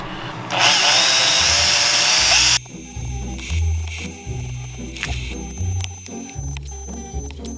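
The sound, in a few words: cleaning pump parts with bristle brushes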